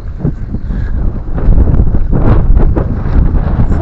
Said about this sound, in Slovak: Fúka, že riadne.